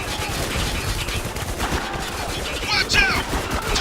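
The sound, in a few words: gunfire in the video game Spec Ops: The Line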